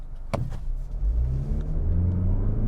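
A 2021 Mazda CX-30 GT in sport mode launches hard from a stop, a sharp thump followed by a loud, steadily rising engine drone as it accelerates, close and continuous with no talking.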